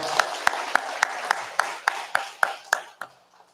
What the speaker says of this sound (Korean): 우리 한 번 더 박수합시다.